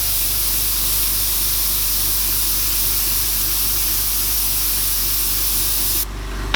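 An airbrush sprays paint through a stencil while an owl is being painted, making a loud, steady, close hiss that holds unbroken for about six seconds and then cuts off abruptly, with no talking.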